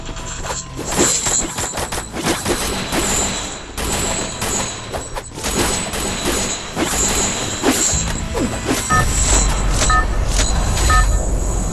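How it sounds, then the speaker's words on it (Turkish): Traffic noise from a street, heard from a balcony, with vehicles rumbling past and occasional clattering knocks, no talking. "Bu arada ara sıra araba sesleri gelebilir arkadaşlar"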